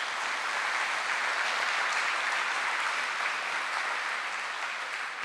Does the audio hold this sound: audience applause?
yes